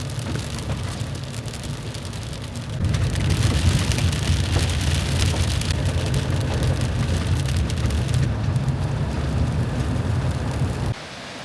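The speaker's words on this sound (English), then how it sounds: "So it's back to hailing" Hail pelts the roof of a bus on the Oregon Coast, a dense, loud drumming that suddenly intensifies after a few seconds, holds steady, then cuts off abruptly near the end.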